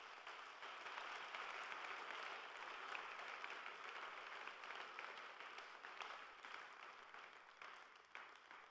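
A church congregation gives sustained, fairly distant applause during a worship service, a dense steady wash of many hands clapping that slowly eases toward the end, with no talking.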